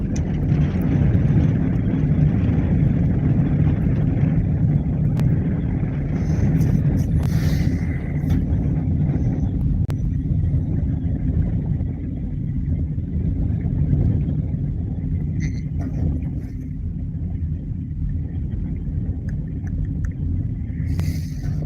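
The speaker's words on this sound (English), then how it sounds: "That wind can't be fun to listen to." Wind blowing across a bridge at night while fishing in the dark, a heavy low rumbling buffet that roars steadily throughout, close and loud, with faint higher rustles now and then.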